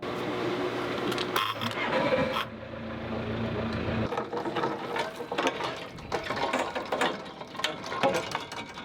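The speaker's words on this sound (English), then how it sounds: "Let's fire up them engines." Sailboat engines cranking over and catching, with a brief mechanical whir that settles into a steady running drone, loud and close, alongside rattling clicks and mechanical noise and no talking.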